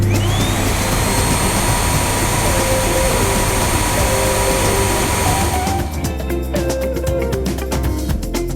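A vacuum cleaner drones loudly and steadily while a messy bedroom is cleaned, with a constant close whine that changes tone near the end as the motor shifts, and no talking.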